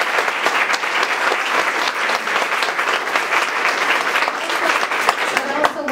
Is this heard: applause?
yes